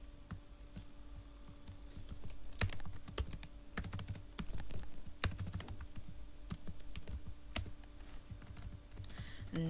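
Rapid, irregular typing of HTML code on a computer keyboard, close and clear, with occasional sharper key strikes standing out over a steady low hum.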